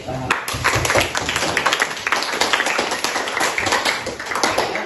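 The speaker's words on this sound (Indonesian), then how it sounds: "Oke, berikan aplaus." A classroom of students in a history lesson bursts into steady clapping that continues without a break, with a few voices mixed in under the applause.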